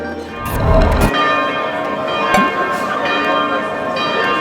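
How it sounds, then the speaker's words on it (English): Church bells in Amalfi ring steadily at 10 a.m. with layered, sustained tones, loud and close, a heavier clang near the start and ambient noise beneath. "unless they alert you for 5 minutes straight with the bells?"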